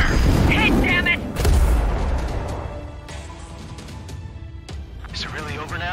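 In the Ace Combat 7 video game, the Stonehenge railgun fires, a heavy booming blast with a long rumbling tail and further thuds, while radio voices talk over it.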